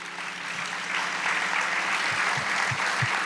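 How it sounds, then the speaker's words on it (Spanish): A church congregation applauds during a worship service, steady clapping with a few low thumps near the end, moderately loud and continuous. "dale un fuerte aplauso al Señor"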